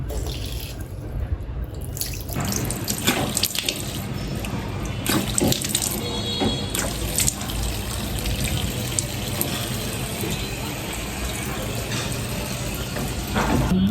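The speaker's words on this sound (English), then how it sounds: "I have washed my face with just normal temperature water" Tap water runs steadily into a sink while a face is washed with normal-temperature water, with splashing and small bursts as hands move under the stream, close and continuous.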